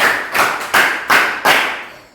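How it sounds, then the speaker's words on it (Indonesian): Rhythmic hand clapping from a group of students during a classroom maths game, five sharp claps in a steady pattern, near and loud with no talking. "Tepuk 1, tepuk 5."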